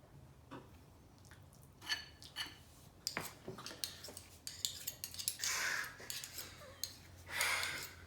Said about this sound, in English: you just take 2 spoons and you fold it very slowly